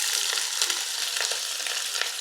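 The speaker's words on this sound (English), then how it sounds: "Coat those in the oil and slowly cook these down for around 15-20 minutes" Onions frying gently in oil for a curry, a steady close sizzle with soft crackles and pops throughout, no voices.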